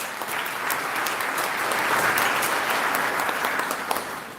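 An audience in a Catholic church sanctuary applauds during a sermon, producing a steady, dense wash of clapping that lasts several seconds without a break and sounds moderately close and full.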